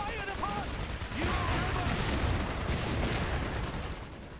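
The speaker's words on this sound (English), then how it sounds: "And we're being fired upon!" Dense gunfire and artillery in the real-time strategy game Iron Harvest 1920+, a loud, continuous barrage of shots and booms with radio-style unit voice lines sounding over it.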